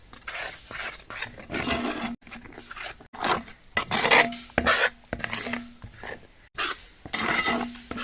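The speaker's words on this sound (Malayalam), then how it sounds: "പകുതി ചേർത്ത് കൊടുത്തിട്ട് നല്ലതായിട്ടൊന്ന് മിക്സ് ആക്കി കൊടുക്കാം." Maida flour is mixed into plum cake batter in a bowl, heard as repeated scraping and knocking strokes of a utensil against the bowl in uneven bursts separated by brief pauses, close and moderately loud with no talk.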